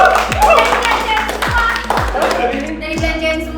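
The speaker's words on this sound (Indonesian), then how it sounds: "Tepuk tangan buat Ame" A few people in a casual indoor group clap for a friend, a handful of sharp, close hand claps in a loose rhythm along with low thumps and voices talking around them.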